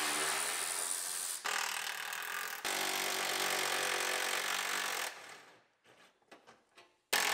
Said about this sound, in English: Now we'll unbolt our fender from the rail up at the top.